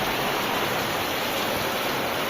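Heavy rain pours in a dense, steady roar with no pauses, loud and close, filling the whole scene.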